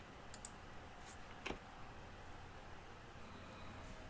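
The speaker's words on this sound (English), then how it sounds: "I'll hit enter to send that." A computer keyboard's enter key is pressed, giving a few faint, isolated clicks with one sharper tap midway against quiet background hiss.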